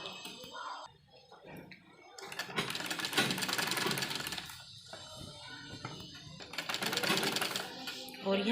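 A sewing machine runs in steady, loud whirring stretches with brief pauses, stitching strips of an old dupatta into a suit or kurti; someone talks over the machine.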